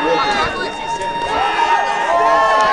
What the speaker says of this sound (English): And he's getting the crowd hype.